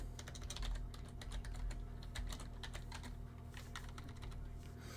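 Someone types quickly and steadily on a computer keyboard, the keys clattering fast and close over a low background hum.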